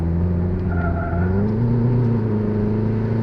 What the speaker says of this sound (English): I'm using the throttle to kind of like make it right through this turn